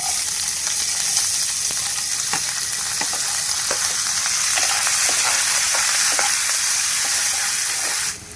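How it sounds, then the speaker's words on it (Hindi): Chopped onion hissing loudly in hot oil in a pan, a dense continuous sizzle with faint ticks and pops, close up, cutting off abruptly at the end. "अभी डाल रही हूँ प्याज"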